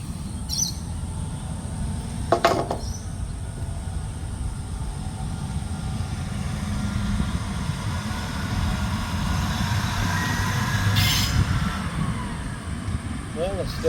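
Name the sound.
train passing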